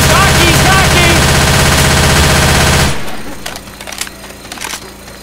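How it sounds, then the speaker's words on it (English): Rapid machine-gun fire in Left 4 Dead 2 rattles loud and continuous for about three seconds, then stops, leaving scattered single shots and impacts over quieter game noise. "Machine gun."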